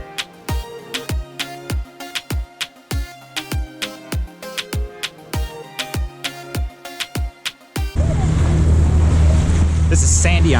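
Small boat running on open water near Georgetown, rhythmic thumps of the hull slapping waves for several seconds, then a dense roar of wind and spray, loud and close.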